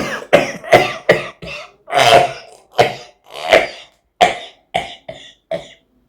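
A man imitates whooping cough with a series of about a dozen sharp, harsh coughs and throat-clearing bursts separated by brief pauses, loud and close, with no other sound.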